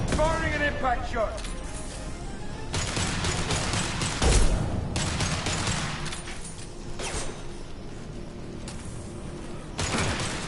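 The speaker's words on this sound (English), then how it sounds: "Firing an impact shot." Impact shot gunfire in Mass Effect 2 Legendary Edition, with bursts of heavy weapon fire and a booming impact in the middle of continuous combat noise, while voices talk over the action.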